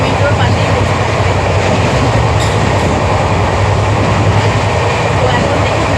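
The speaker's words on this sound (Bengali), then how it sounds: "আর ট্রেন এখন মোটামুটি জোরেই চলছে" A sleeper train runs fast on the way to Cuttack, with a loud, constant rumble of wheels and carriage noise that fills the space close by.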